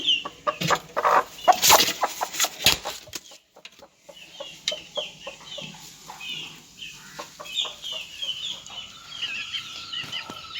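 Several sharp rustles and flaps, then a broody hen sitting on nine eggs clucks repeatedly in a low, steady rhythm close by, with a few soft bird calls.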